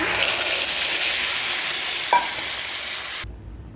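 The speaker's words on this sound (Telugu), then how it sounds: "కాస్త కరివేపాకు వేసుకున్న తర్వాత ఈ గోంగూర ఇందులో వేసి" Gongura leaves frying with curry leaves in a pan for gongura pulusu, a loud steady sizzle and hiss with one brief clink, then an abrupt cut to near quiet at the end.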